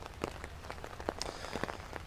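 Rain falls in a garden, a soft, steady patter of drops hitting surfaces nearby. It stays fairly faint, with scattered slightly louder taps and no speech.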